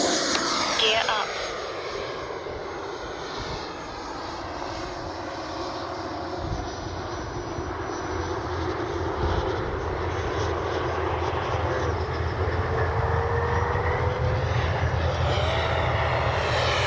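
An E-flite Viper 90mm electric ducted-fan RC jet flies at full speed with its gear up, giving a loud, continuous jet-like roar that holds steady and swells gradually. A voice talks over it.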